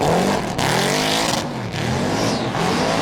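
A drift car at the Motorvation 35 event, running with a flat front tyre through coloured smoke: a loud, continuous roaring engine with rising and falling revs and tyre noise, close by.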